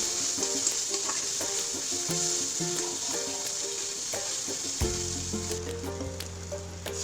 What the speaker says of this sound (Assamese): এই মছলাখিনিও ধুনীয়াকৈ মই ভাজি ল'ম